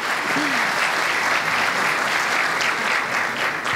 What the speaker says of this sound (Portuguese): uma salva de palmas aqui para a doutora Clair